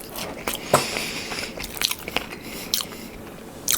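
Crunchy bites into air-fried cauliflower buffalo wings, several sharp crunches spread across the few seconds at close range, with no talking.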